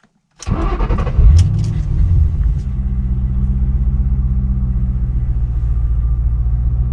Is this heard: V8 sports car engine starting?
yes